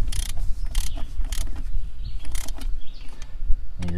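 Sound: ratchet tightening intake bolts on BMW M44 engine

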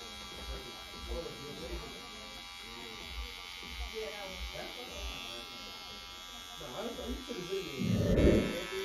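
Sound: Gamma Rebel hair clipper cutting a burst fade

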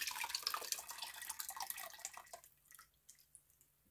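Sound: pouring lye solution into soap-making oils

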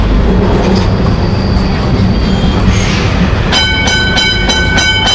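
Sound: Kolkata tram running

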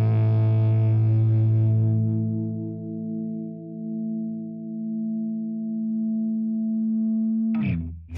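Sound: electric guitar through StewMac '62 Brit-Plex JTM-45 style amp, crunch

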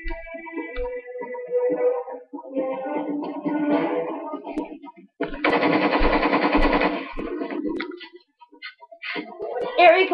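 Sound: Gatling gun firing in the video game Lost Planet 2

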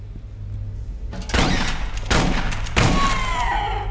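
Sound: shotgun fire in the video game Aliens: Colonial Marines

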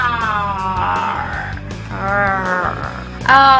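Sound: voice imitating a dragon's roar

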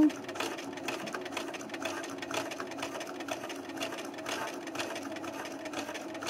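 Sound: sewing machine stitching a patch on slowest setting

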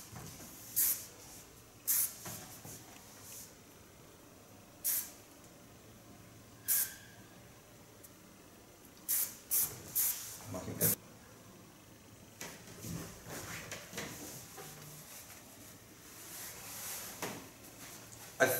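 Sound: hairspray being sprayed onto hair

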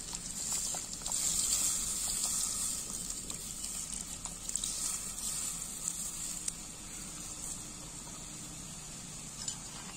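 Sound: tamarind water added to simmering anchovy kuzhambu

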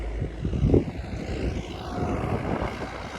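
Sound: tractor engine ploughing under heavy load

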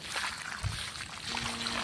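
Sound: water trickling onto plants

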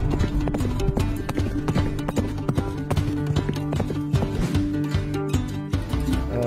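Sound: horse hooves clip-clopping while being ridden

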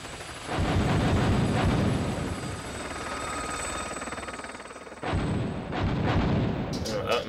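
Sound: explosion effect in the video game Fighting Force

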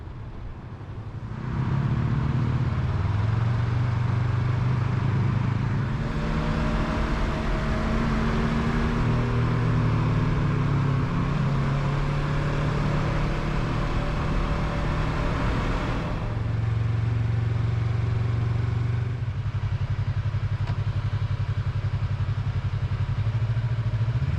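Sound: Yamaha MT-03 motorcycle riding on road

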